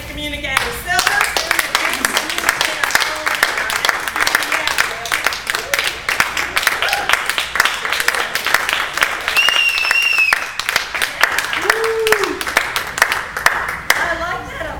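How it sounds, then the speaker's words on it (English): Dense, sustained applause from an audience at a Toastmasters meeting fills the room for the whole stretch, with a few whoops and voices rising over the clapping. "I like that applause."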